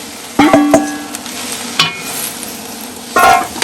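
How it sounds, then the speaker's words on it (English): Swiss chard leaves are added to a pot and stirred, giving a few sharp close clatters and scrapes over a soft sizzling background. "we're going to add the leaves"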